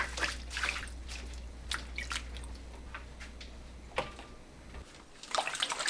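Water from a tap splashes and drips into a bowl to soak water dropwort, with irregular close drips and splashes over a low steady hum, swelling into heavier splashing near the end.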